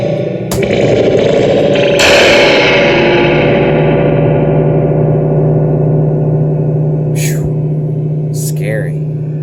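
A Kustom 100 guitar amplifier under repair rings out a loud distorted chord with a long reverb-drenched wash that slowly decays, broken by a couple of sharp clicks near the end.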